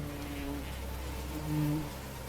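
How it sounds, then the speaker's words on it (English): Insects buzz and whine around a swamp in a video game, a steady close drone with brief rising hums, like a mosquito near the ear. "Sounds like there's a mosquito in my ear."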